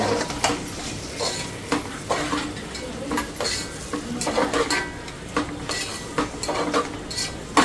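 Raw vegetables frying in oil for chicken noodles, with repeated scraping and clinking of a spatula against the pan over a continuous sizzle, close and busy throughout.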